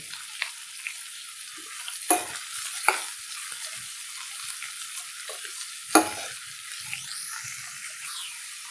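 Three large onions fry in a pan for egg curry, giving a steady close sizzle broken by a few sharp stirring scrapes and clinks.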